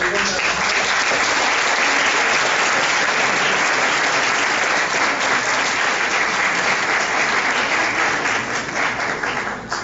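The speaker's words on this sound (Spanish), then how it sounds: "para que envíe un aplauso" A conference hall audience at a keynote lecture on the electoral process bursts into sustained, dense applause, loud and even for about ten seconds with no break in the clapping.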